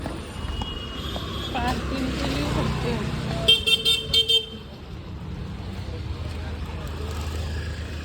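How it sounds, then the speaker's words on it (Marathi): A car horn gives a quick run of short honks over rumbling traffic and engine noise at a furniture market in Ulhasnagar, with people talking in the background. "आहे बघा आपली गाडी"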